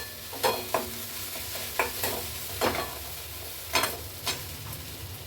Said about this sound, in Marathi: कांदा टमाटा परतत होता त्यावर